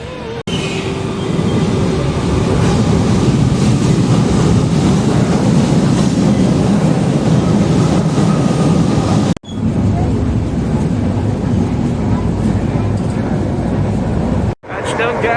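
An LRT light rail train in motion, heard from inside the car as a loud continuous rumble and rolling noise, with brief cuts between stretches of riding.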